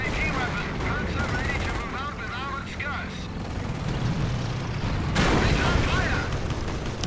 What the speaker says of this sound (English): Anti-tank gun gets pinned, but it still fires.